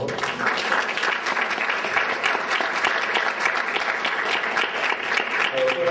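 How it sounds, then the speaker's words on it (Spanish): An audience at a law and politics conference applauds in a dense, sustained wash of clapping that holds steady throughout, loud and full with no voice above it. "Y pido un fuerte aplauso para ella, por favor."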